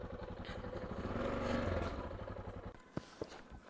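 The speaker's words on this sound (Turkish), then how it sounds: "Konvoyun sesi gelmeye başladı. Geliyorlar." A convoy of motorcycles approaches with a faint, steady engine drone that swells and fades a little, followed by a few sharp clatters.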